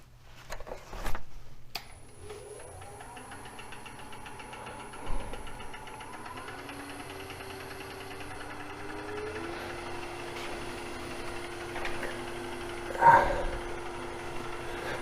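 A wood lathe spins a bowl blank at about 700 RPM, its motor giving a steady, even hum and whine throughout, with a few soft knocks and bumps near the machine and no talking.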